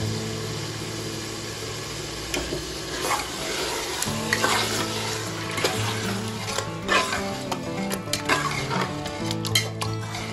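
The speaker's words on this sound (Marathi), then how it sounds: "मस्त मिक्स करून घ्यायचं आता आणि झाकण लावून घ्यायचं." Chicken biryani masala frying in a pot with yogurt being mixed in, giving a continuous sizzle and repeated clattering, scraping strokes of a spoon against the pot, close and without talk.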